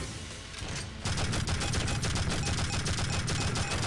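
Rapid cannon fire in the shooter Tribes: Vengeance, a dense stream of loud, close shots bursting in after a short quieter lead-in and pounding on without pause.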